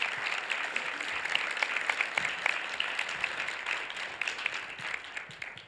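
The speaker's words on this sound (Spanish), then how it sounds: "Un aplauso, sí." An audience applauds at a book fair presentation at FIL Guadalajara 2019. The clapping is moderate and fairly steady, with distinct individual claps standing out, and it continues without talk for several seconds.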